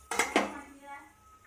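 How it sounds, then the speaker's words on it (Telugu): Ragi flour stirred into water in a bowl for ambali, two quick clinks of a spoon against the bowl followed by a soft fading ring, close and quiet. "ఇలా నీట్గా కలుపుకుందాము."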